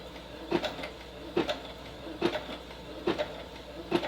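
A home sewing machine slowly stitching a button in place, giving five evenly spaced mechanical thunks roughly every 0.85 seconds over a quiet room hum, close and fairly soft.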